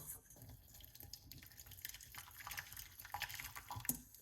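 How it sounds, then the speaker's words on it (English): Hot water trickles and splashes steadily into a vessel nearby, a soft continuous pour with small drips and gurgles, fairly quiet. "Then I pour hot water"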